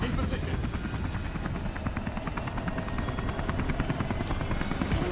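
Helicopter in the video game Beyond Two Souls, its rotor beating in a steady rapid chop that stays loud and close throughout, with engine drone beneath.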